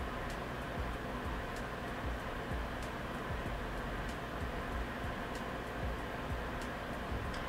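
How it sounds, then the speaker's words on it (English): A steady broadband whoosh from a room fan and an air conditioning vent running together fills the space, with faint rhythmic ticking underneath. "the noise you hear in the background is the fan over here and the AC vent that's over there"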